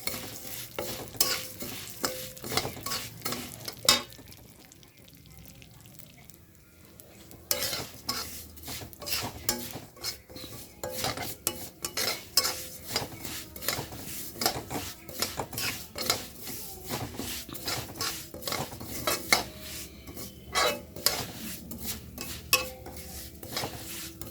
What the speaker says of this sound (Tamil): சேமியா வந்து நல்லா வறுப்பட்டு பொன்னிறமாகும்.